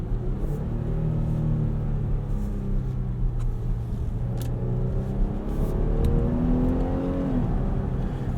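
A 2018 Dodge Durango GT AWD engine revs and accelerates in sport mode from the inside, a loud steady drone whose pitch climbs through the gears, with a shift near the end and no talk.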